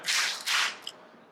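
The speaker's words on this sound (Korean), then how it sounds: "우리 모두 다 같이 손뼉을." An audience at a corporate sales case presentation contest breaks into applause, two quick bright bursts of clapping that then trail off into quiet.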